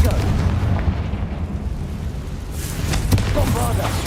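A Confringo fire spell blasts in Hogwarts Legacy, giving a loud, sustained, rumbling explosion with crackling bursts that swells again near the end.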